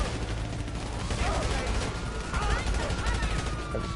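Dense gunfire in the video game GTA 5 Online, rapid overlapping shots and bursts filling a short stretch, loud and continuous over a busy background.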